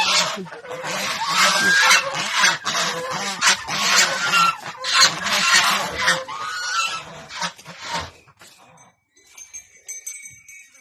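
Several geese honk loudly and repeatedly in a noisy, overlapping chorus close by, then the racket drops off near the end.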